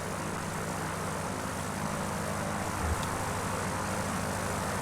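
A small light aircraft's propeller engine drones steadily in Kentucky Route Zero, the plane straining but too slow to lift off; the engine hum stays loud and constant with a brief low thump near the end.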